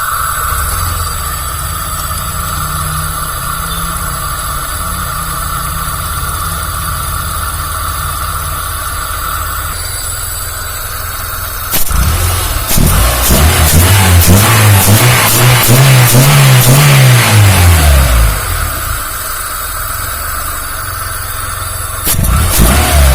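A Honda Civic Genio engine idles steadily at low rpm, then revs up and back down in a long, loud swell before dropping to idle and briefly blipping again near the end.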